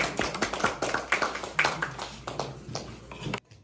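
Audience clapping at a Christmas day gathering in Korea, a ragged run of individual claps and taps close by with a few voices, ending abruptly.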